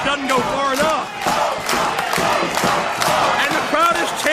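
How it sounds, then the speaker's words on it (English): Wrestling event crowd chanting in unison, a loud rhythmic rising-and-falling arena chant repeating steadily, with voices talking over it. "the crowd is chanting Oprah"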